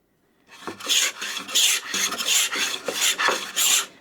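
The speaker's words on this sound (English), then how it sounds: "we can hear that we're just scraping" Rhythmic rasping scrapes of a cabinet scraper on pine wood, about six strokes back and forth, close and crisp with brief pauses between passes.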